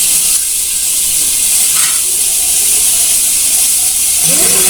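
Water tipped into a pan of sizzling, fried-down masala for chana kaliya gives a loud, steady hiss of steam and spitting oil that runs unbroken throughout, close and dense, with no one talking.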